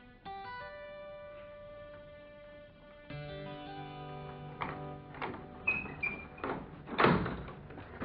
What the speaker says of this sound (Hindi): ये चाबी लो, दरवाजा खोल दो